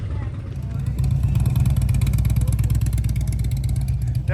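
A motorcycle at the Sturgis rally pulls away, its engine a loud, close, steady throbbing rumble that swells after the first second and holds without fading, with faint voices in the background.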